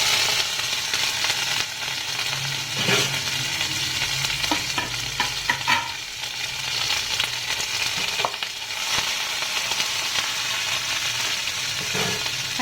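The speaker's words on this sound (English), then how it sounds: "Now I will be adding the curry leaves." Curry leaves, mustard seeds and cumin sizzle steadily in hot oil for a tindora curry, with a spoon stirring and scraping through the crackling fry from start to finish.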